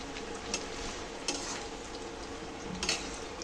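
Dried-fish and bean curry simmers and sizzles steadily in a pan while a little water goes in, with a few sharp clicks of a utensil against the pot breaking through the hiss.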